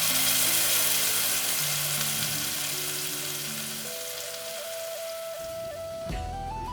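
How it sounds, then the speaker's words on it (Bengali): Spice paste fries in a little hot oil in a wok with a strong, even sizzle that holds steady and then eases off slightly, while music plays underneath. "কড়াইতে অল্প তেল গরম করে মশলাটা দিয়ে ভালো করে কষাতে হবে।"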